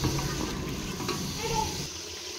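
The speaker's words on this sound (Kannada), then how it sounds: "ಎಣ್ಣೆ ಬಿಸಿ ಇದೆ. ನಾನು ಪೇಸ್ಟನ್ನು ಹಾಕ್ಕೊಳ್ತಾ ಇದ್ದೀನಿ. ಇದು ನೀಟಾಗಿ ಎಣ್ಣೆಯಲ್ಲಿ ಫ್ರೈ ಆಗಬೇಕು." Masala paste for a village-style mutton sambar frying in hot oil, a steady broadband sizzle with some stirring, fairly close and continuous, easing slightly near the end.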